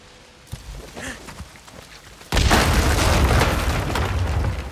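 A pipe bomb in the game Days Gone detonates after a couple of seconds of quiet. It brings a sudden loud boom that rolls into a sustained rumbling, debris-filled roar.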